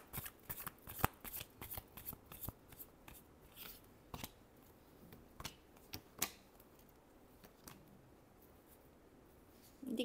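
A deck of cards is shuffled in repeated bursts of crisp riffling and flicking, close and fairly quiet, with short pauses between passes and no talking.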